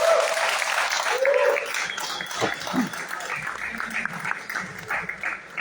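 An audience at a cultural event with musicians and a journalist applauds, a steady wash of clapping from a hall that fades gradually, with faint voices underneath.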